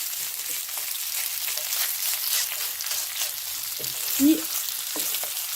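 Chicken and cashews stirred and frying in a pan, a steady bright sizzle with soft scraping stirs and one brief clink near the end, heard up close with a single spoken word.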